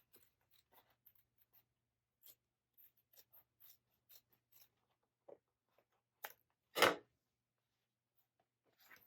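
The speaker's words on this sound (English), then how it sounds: "you can go ahead and trim the seam allowance down to 1/4 inch" Scissors trimming the fabric seam allowance of a wristlet bag: sparse, quiet snips and small crisp cuts scattered across the quiet, with one louder close snip near the end, no talk.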